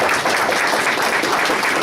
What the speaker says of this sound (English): Let's have a big round of applause for our panelists tonight